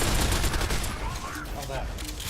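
Dense, continuous gunfire in a video game, a loud rapid rattle of shots and blasts filling the moment with a voice faintly underneath.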